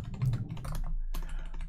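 Typing on a computer keyboard, a quick, steady run of close, crisp key clicks with no talk.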